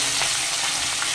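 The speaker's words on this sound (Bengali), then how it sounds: "হলুদ দিয়ে খুব ভালো করে একটু ভেজে নেব।" Drumstick and potato pieces frying with salt and turmeric give off a continuous close sizzle, dense crackling hiss with faint stirring scrapes, and no talking.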